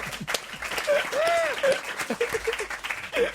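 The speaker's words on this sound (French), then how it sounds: "Je vous embrasse et je vous applaudis." Audience applause on a French TV talk show, steady clapping from a studio crowd mixed with whoops and cheering voices, fairly loud throughout.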